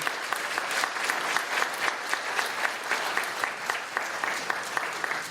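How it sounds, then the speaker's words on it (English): A crowd at a county candidates' forum applauds the candidates, with many hands clapping in a lively, slightly uneven rhythm with distinct claps popping through, steady for several seconds with no voices on top. "Can we please get a round of applause for both of our candidates?"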